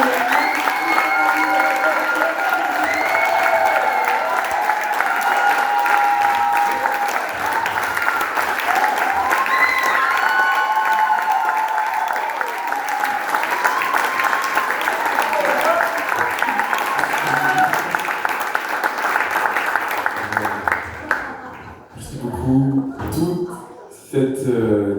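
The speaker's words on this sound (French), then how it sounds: "on peut applaudir Brian" Applause from an audience at an art event in Fréjus, a dense steady wash of clapping with crowd noise lasting about twenty seconds before it thins out into scattered sounds and voices.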